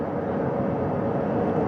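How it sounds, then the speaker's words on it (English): A helicopter hovers about 40 feet over a front porch during a recovery operation, giving off a dense, continuous engine-and-rotor drone that holds steady and loud throughout. "Helicopter 1 again hovering 40 feet over the front porch"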